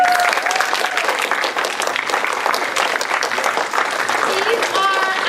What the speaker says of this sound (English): Let's give a round of applause for our technicians.